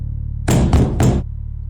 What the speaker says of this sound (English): Especially if they knock that loud.